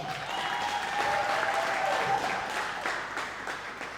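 Audience applauding a guest speaker, Dr. Oscar Kambona, at the Tax Nights 5th Edition event: dense, steady clapping from a large crowd that stays loud for the full four seconds.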